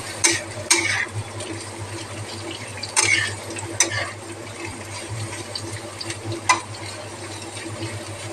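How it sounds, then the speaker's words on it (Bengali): Beans and carrots fry in a pan for chowmein, a low steady sizzle with a few sharp scraping and clinking stirs, close and fairly quiet with no talk. "এবার এই বিনস গাজরগুলি ঢেলে দিলাম"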